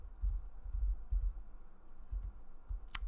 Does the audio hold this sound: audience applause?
no